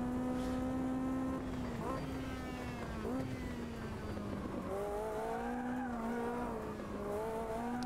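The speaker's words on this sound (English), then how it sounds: "The uh, engine sound of this car is quite nice." Race car engine in the Automobilista 2 racing game, a loud, continuous buzzing drone that holds steady and then shifts in pitch as the car brakes and accelerates through gears, with faint tyre squeal.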